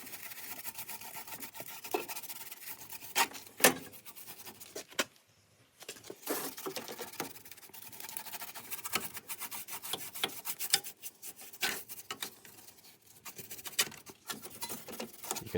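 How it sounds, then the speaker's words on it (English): A cloth rubs over the steel outrigger of a Land Rover Defender chassis to dry off moisture, making close, repeated rasping strokes in an uneven rhythm, with a short pause near the middle and no talking. "Just drying the moisture off the outrigger and then giving it a good greasy paint."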